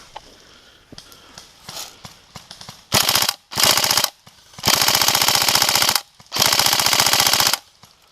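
An airsoft gun fires in long rapid bursts, a dense mechanical rattle in three or four strings of a second or more each, loud and close, after softer clicks and handling noises at the start.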